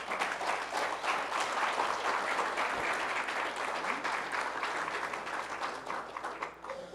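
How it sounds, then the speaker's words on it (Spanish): Church congregation applauding during a sermon, dense sustained clapping from many hands filling the room at a steady level before tapering slightly at the end. "Dale un aplauso a Cristo para que se relaje."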